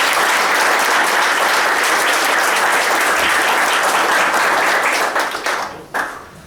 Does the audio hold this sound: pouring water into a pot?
no